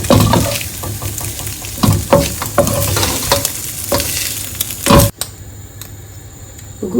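Bacon and eggs sizzle and fry in a pan for bacon-egg fried rice, with repeated scraping stirs and clacks of a utensil throughout before the sizzling drops away near the end; no one speaks.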